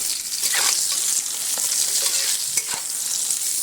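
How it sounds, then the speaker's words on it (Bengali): Brinjal is stirred in a hot pan with salt and turmeric, giving a bright sizzle broken by quick scraping strokes and a few sharp clicks of a utensil against the pan. "খুব ভালো করে আমি নেড়ে চেড়ে লবণ হলুদটা বেগুনের মধ্যে মাখিয়ে নেব।"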